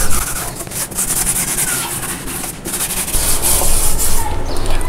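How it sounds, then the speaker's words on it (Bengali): Steady scrubbing of a kitchen stove top with a Vim dishwashing bar to lift cooked-on oil, a continuous close, fairly loud rough rubbing with no talking. "তেলটা তোলার জন্য আমি একটু ভিম বার দিয়ে একটু ঘষে নিচ্ছি"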